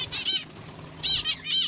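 Birds flap their wings in flight close by, three quick bursts of fluttering wingbeats with short gaps between them, loud and alone.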